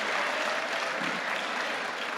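Crowd applause at the StarCraft II WCS Montreal 2017 grand final, a steady, dense wash of clapping and cheering from a large audience that fills the whole moment without a break.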